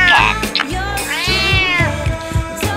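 A cartoon cat meows in a short, bright, wavering call within a children's Bangla learning cartoon, layered over a steady low musical backing, with a second rising-and-falling meow near the middle.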